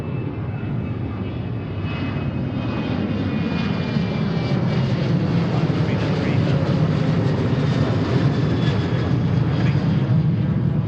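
A Delta airliner takes off at Seattle's airport, its engines producing a steady, loud roar that holds for the whole stretch, heard from a fair distance outdoors.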